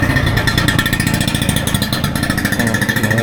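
Small scooters and motorbikes run along a narrow street beside Khlong Bang Luang canal in Bangkok, a steady buzzing engine drone close by that holds throughout without talk.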